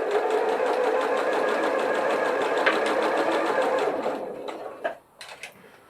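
A sewing machine stitches a fabric glasses case in a steady, fast mechanical whir that runs close and continuous for about four seconds, then slows and stops with a few short bursts and clicks.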